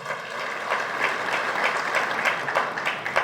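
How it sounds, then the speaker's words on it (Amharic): Warm audience applause at an evening awards ceremony celebrating traditional dress, a steady dense clatter of many hands clapping from a crowd, sustained for the whole stretch without speech. "ለማክ ኢንተርቴይንመንት አንድ ሞቅ ያለ ጭብጨባ።"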